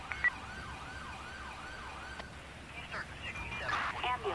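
An ambulance siren in the video game GTA V wails in repeated rising and falling sweeps, moderately loud, then breaks into choppier yelps while a voice talks faintly underneath.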